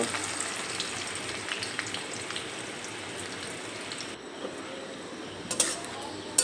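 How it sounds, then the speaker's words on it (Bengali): Chopped onions fry lightly in a pan, a steady soft sizzle with occasional crackles and stirring scrapes, continuous for several seconds. "এই পেঁয়াজ এখানে আমি হালকা ভেজে নেব।"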